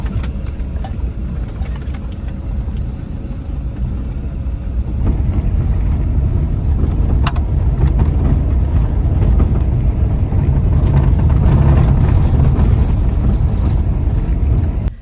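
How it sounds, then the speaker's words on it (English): A van driving slowly along a quiet, bumpy back road, with a loud, steady engine rumble and road noise inside the cab that build slightly partway through, with no talking. "So it's really quiet out here and the road is bumpy, so I drive pretty slow."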